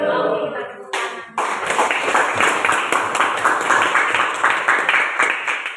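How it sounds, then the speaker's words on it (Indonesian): A school class of students clapping hands together in a classroom, dense and steady, close and loud, after a brief stretch of voices at the start. "Oke, kita tepuk tangan."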